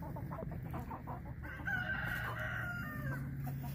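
A speckled white rooster crows once, a fairly faint drawn-out call over steady low background noise outdoors on a farm.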